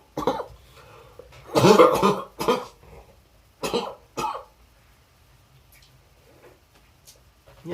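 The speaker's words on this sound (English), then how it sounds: "I got left with this cough." A lingering cough left over after COVID: several harsh, close coughs in separate bursts, with a throat-clearing sound between them and quiet pauses.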